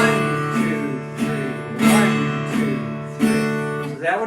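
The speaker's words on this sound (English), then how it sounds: "So that would be the first strum for a 3-4 song" Guitar strummed in 3/4 waltz time, a strong accented strum followed by two lighter ones in a steady repeating pattern, ringing chords played alone with no voice over them.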